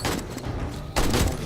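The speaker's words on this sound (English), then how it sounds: "Oh, is that the AK?" Bursts of AK rifle gunfire in a video game shooter, loud and close, with a sustained volley followed by a sharper, heavier burst near the end.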